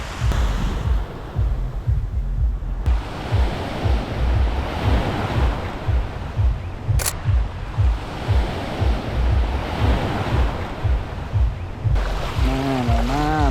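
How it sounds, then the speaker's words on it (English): Ocean waves roll in on a polluted Bali beach with a constant rushing wash of surf and rhythmic surges. Wind buffets the microphone throughout. "Incredible, the waves coming in."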